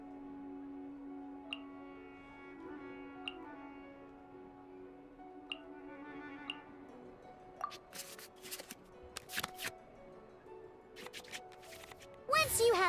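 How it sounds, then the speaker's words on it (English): Digital cards from the Genshin Impact card game shuffled back into the draw pile: a run of quick papery riffles and flicks in bursts over a soft sustained game-music drone, ending with a louder flurry. "we can select any number of cards in our hand to shuffle back into the draw pile"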